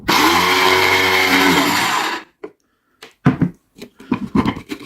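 An Arzum Choppy AR 1133 electric food chopper chops onion, its motor giving a loud, steady whir for about two seconds before stopping, followed by scattered short knocks and clatter.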